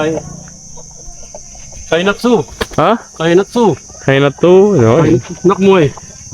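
Chickens raised indoors in a Thai village cluck in a string of short, close bursts, with a steady high insect trill running underneath throughout.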